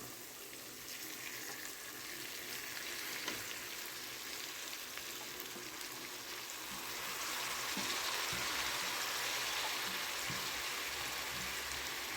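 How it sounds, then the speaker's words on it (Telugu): Chopped spinach hits a pan of well-fried onions, giving a steady, fairly faint sizzle throughout that swells a little partway through, with no talking. "ఉల్లిపాయ ఇలా బాగా వేగిపోయిన తర్వాత మనం ఇప్పుడు కట్ చేసి పెట్టుకున్న పాలకూర వేసేద్దాం"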